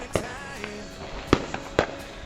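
Small missile battery fireworks fire a few sharp pops and whooshes in quick succession, moderately near in an outdoor setting.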